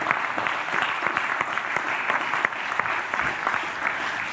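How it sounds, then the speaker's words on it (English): Conference audience giving a round of applause for a frontline medicine panel, a steady, dense burst of many hands clapping at moderate volume, continuous from start to finish. "all I want, if it's possible, is a round of applause for our panel"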